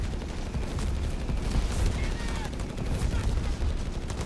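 An artillery barrage falls on a .30 cal machine gun position in Company of Heroes 3, a dense continuous rumble of blasts and crackling gunfire that stays loud throughout, with a commentator's voice faintly under it.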